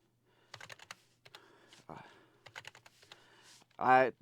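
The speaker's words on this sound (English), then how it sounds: "I do find myself hitting other keys while I'm trying to type." Typing on a Lidl gaming keyboard, quick bursts of close clicky keystrokes separated by short pauses, ending in a brief louder sound.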